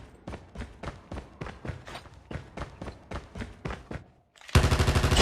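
Video game gunfire: about a dozen evenly spaced sharp shots in a steady rhythm, fairly close and loud, then a brief pause before a louder burst of rapid automatic fire at the end, with no talking.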